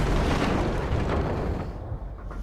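A warplane shot down in the Battlefield 1 open beta erupts in a loud, rumbling explosion that fills the air and then slowly fades.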